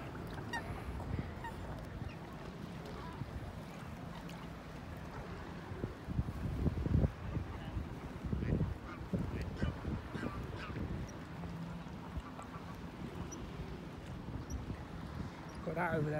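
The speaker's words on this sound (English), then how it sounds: "I've got swans and everything" Swans honking outdoors near water, scattered calls over steady wind and background noise, with a person talking over them.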